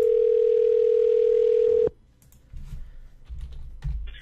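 A steady telephone dial tone sounds loud and unbroken for nearly two seconds, then cuts off abruptly, followed by quiet line noise and a few soft clicks and knocks as a call is placed.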